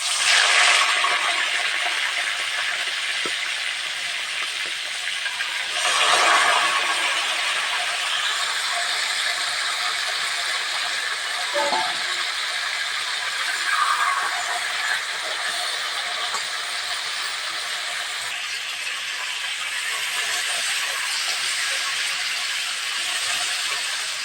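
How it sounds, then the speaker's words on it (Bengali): Chicken meat frying in hot oil for a Bihari-style chicken and potato curry, a steady bright sizzle throughout with brief surges, no voices. "এই তেলের মধ্যে আমি মাংসটা একটু ভেজে নেব।"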